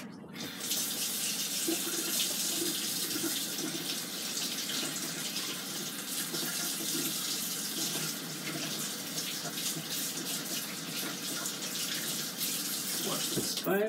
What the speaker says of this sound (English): Just rinse off the probe.